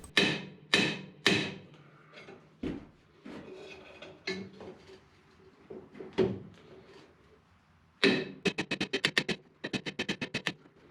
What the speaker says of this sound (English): Trying to put outward pressure on the drum while tapping the axle inward